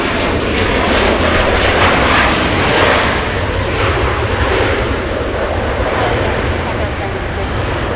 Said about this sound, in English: It's an A330neo getting a move on in the south side of LAX.